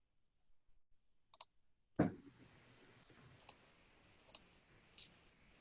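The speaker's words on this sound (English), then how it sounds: "Love hearing all the clicking." Participants in an online meeting click to select their votes, giving a few sharp, sparse clicks spread over a quiet background with a faint hum.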